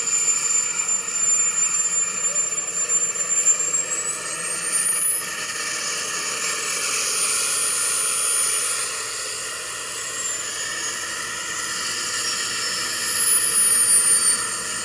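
A plane's engine drones steadily at West Branch airport in Michigan, a loud broadband roar with a high whine, holding fairly constant for the whole stretch with no talking.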